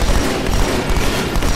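Dense, continuous burst of automatic gunfire in Halo 2, loud and close, a rapid rattling volley filling the whole short stretch with no talking.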